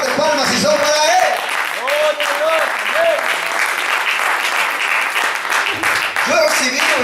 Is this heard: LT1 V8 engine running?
no